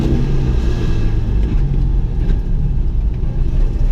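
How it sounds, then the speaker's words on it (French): The engine of a Citroën 2CV (Dodoche) drones loud and close while driving, a steady low rumble that holds constant with no pauses. "J'adore le bruit de la Dodoche."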